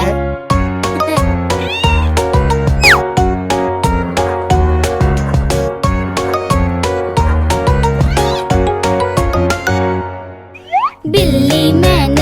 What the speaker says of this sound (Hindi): बिल्ली मैंने पाली है, कान में इसके बाली है।